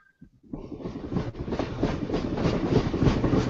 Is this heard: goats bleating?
no